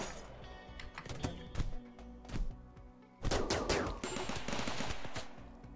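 Rapid gunfire crackles in the RimWorld video game, with repeated sharp shots and dense bursts like a fusillade, steady and close throughout the clip.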